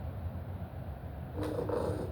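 Cat purring blended with a steady 174 Hz binaural-beat tone: a low, continuous rumbling drone that grows slightly fuller partway through, with no talking.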